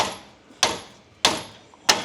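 A lump hammer strikes a Ford Ranger chassis during rust repair, three loud, sharp metallic blows spaced about evenly apart, each with a ringing decay, and a quieter knock between them.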